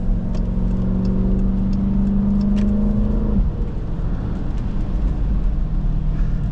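2023 Dodge Durango SRT 392 V8 under throttle on a drive, a loud steady engine drone from inside the cabin that dips slightly as the throttle eases, continuous with no talking.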